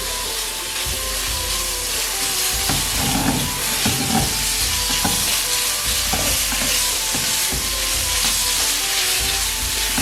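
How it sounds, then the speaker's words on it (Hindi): Chicken and vegetables stir-fried in a hot pan for chicken spring rolls, a steady loud sizzle with scraping and stirring of the spatula throughout, close up and with no talk. "भून लेंगे। इसी तरह मिक्स कर देंगे।"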